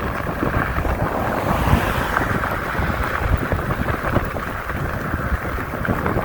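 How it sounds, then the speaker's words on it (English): Cold wind blows hard across the microphone while riding an e-bike outdoors, a loud, constant roaring buffet with no other sounds coming through. "This wind is cold."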